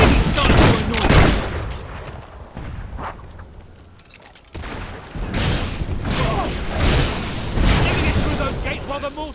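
Mortar explosions and gunfire in the video game Fable 3: bursts of booms and rapid firing come in uneven waves, loud and close, with a brief lull in the middle and voices talking over the combat.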